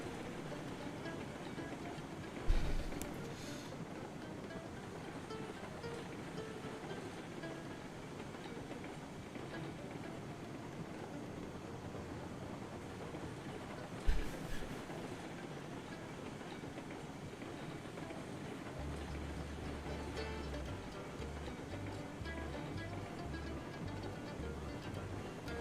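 A light train rolling steadily in a video game, with a continuous rumbling rail drone and two sharp clunks along the way.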